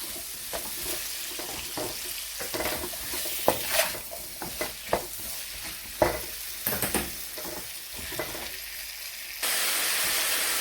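Onions fry in a pan during a beef and vegetable stir-fry, a faint steady sizzle broken by repeated scraping and clacking stirring strokes. A louder, even hiss takes over near the end.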